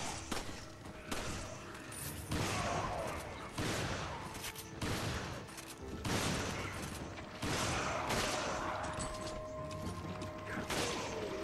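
Repeated shotgun blasts in Resident Evil 5 boom at moderate loudness every second or so across the stretch, mixed with clanking mechanical game noise.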